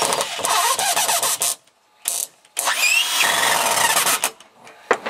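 A power drill whirs loudly in several bursts, winding up and down as it drives a screw into framing for a home addition, with short pauses between runs.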